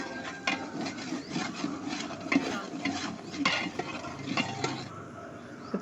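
Ginger paste frying and being stirred in a large pot of mutton curry over a village wood-fired stove, with steady scraping and stirring strokes against the metal, moderately close and continuous.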